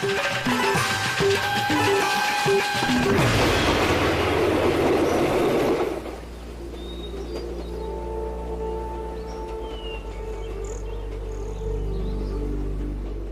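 The Darjeeling Himalayan Railway narrow-gauge mountain train rumbles and clatters loudly at first, then settles into a steady low engine drone with faint bird calls and ambient noise behind it.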